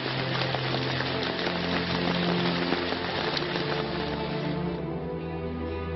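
A torrential downpour pours over Athens, a dense, steady hiss of heavy rain that eases a little toward the end.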